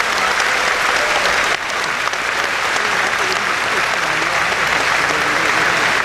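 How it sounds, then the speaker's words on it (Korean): Dense, loud applause from a seated audience at a Korean Liberation Day ceremony, continuous clapping filling the whole stretch with a brief dip partway through. "아름다운 무대를 선사해드린 공연단 여러분께 다시 한번 여러분 큰 박수 부탁드리겠습니다"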